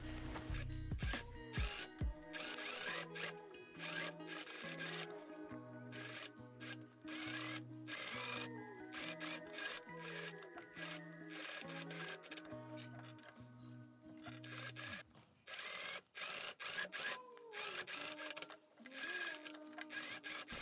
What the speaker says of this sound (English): And then I'm just gonna sew both together.